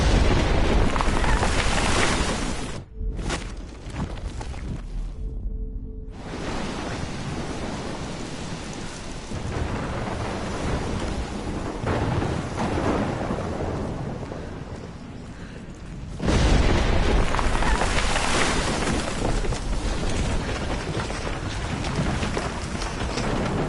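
A violent thunderstorm in a PS4 video game set in Oregon roars with steady heavy rain and deep rumbling thunder, loud and continuous, with a brief hush early on before the downpour surges back even stronger.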